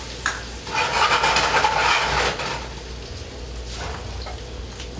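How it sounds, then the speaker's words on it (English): Onions sautéing in a pan with a soft, steady sizzle and occasional utensil scrapes, louder over the first couple of seconds and then settling into a quieter, continuous frying hiss. "The first part of the recipe, you're going to saute a couple onions"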